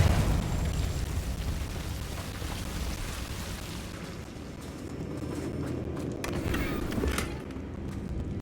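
A Confringo blasting spell in Hogwarts Legacy lands as a low rumbling explosion, a dense, sustained roar with crackling debris that fades and swells again, loud and close.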